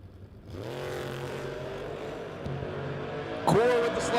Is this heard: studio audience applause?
no